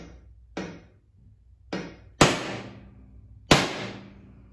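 Four sharp metallic hammer strikes on a center punch marking a drilling spot land one at a time with short pauses between them, the last two louder and ringing, in a quiet room.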